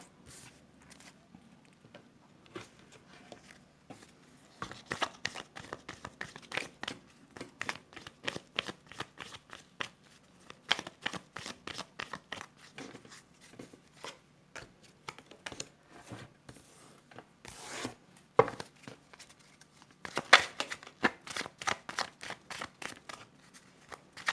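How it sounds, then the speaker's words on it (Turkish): Tarot cards are shuffled by hand in bursts of crisp riffling and flicking, with short pauses between rounds and a few louder slaps as the deck is squared, close and clear with no talking. "Karıştırıyorum kartlarımı."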